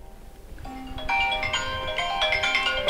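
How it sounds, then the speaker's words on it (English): A phone ringtone plays for an incoming call, a bright melodic tone that starts softly and grows louder and steadier over a few seconds, with no talking over it. "All right, let me answer the phone."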